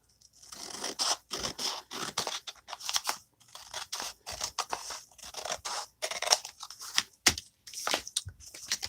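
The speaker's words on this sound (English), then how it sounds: "So to make the envelopes, I am going to cut this rough edge off." Scissors trimming the rough edge off a book page for making an envelope: close, crisp snipping and paper-crunching strokes repeated in an irregular rhythm, with brief pauses between cuts.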